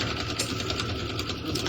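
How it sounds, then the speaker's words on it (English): Sewing machine quilting stitches inside a circle on a table runner, a steady fast mechanical whir and patter running continuously and close, with no talking. "the last stitch is just quilting on the inside of the circle"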